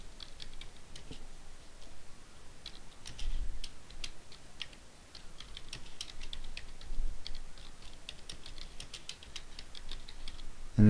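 Quick, irregular key taps from a computer keyboard as a CD title is entered in Nero burning software, light clicks running steadily over a faint background hiss with no talk.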